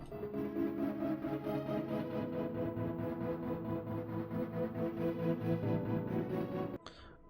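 Steady synthesizer arpeggio with a bright, buzzy tone cycling continuously for several seconds, then cutting off abruptly near the end.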